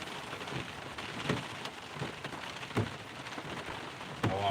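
Rain falling steadily outdoors during a stormy walk, a broad continuous hiss with scattered louder drops and taps, fairly close and without speech.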